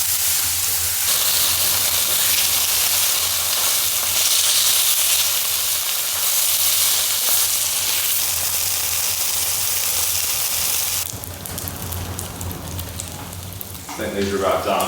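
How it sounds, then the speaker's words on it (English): Garlic and parsley butter sizzles loudly in a pan at a snowy mountain cabin, a steady close frying hiss that holds for about eleven seconds before dropping lower and rougher near the end. "Got some garlic and parsley butter. Get that in there"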